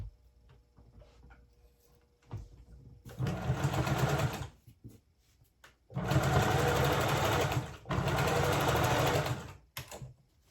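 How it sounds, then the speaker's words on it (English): A sewing machine stitches plaid fabric for men's pants in three loud, close bursts of fast needle whir, separated by brief quiet gaps. "so I can stitch this area. I want to make this stitch a lot bigger."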